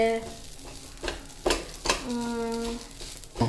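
Ground moong dal being stirred in ghee in a pan for halwa, a few scraping strokes with a soft sizzle running under them, close by and moderately quiet.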